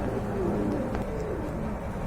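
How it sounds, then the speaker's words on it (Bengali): A pair of Andalusian-coloured Beauty Homer pigeons coo softly and continuously at close range over a dense, steady background murmur, with no clear speech. "এইখানে দেখতে পাচ্ছেন অ্যান্ডালুজিয়ান কালারের ভিতরে এক জোড়া বিউটি হোমা রয়েছে"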